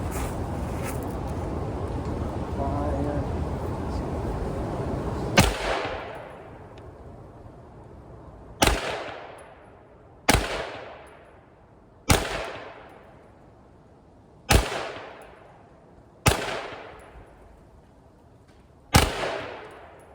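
A GSG MP40P 9mm pistol fired seven times at uneven intervals, each shot a sharp, loud crack followed by a ringing outdoor echo that fades before the next.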